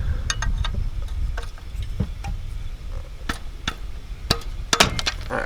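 A 17 mm wrench works loose the oil drain plug under a car: scattered sharp metallic clicks and clinks of the tool against the plug, some close and crisp, over a low rumble, with no speech.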